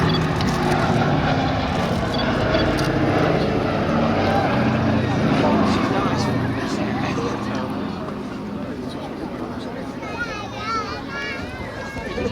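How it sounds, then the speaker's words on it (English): The only airworthy B-17 Flying Fortress in Europe drones overhead at the Duxford air show, its piston propeller engines giving a loud, steady roar that slowly eases off, with someone talking over it. "tribute is paid by the sole airworthy B-17 flying fortress in Europe"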